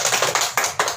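A few people clapping in rhythm at a training session, five sharp evenly spaced claps about a fifth of a second apart, close and distinct.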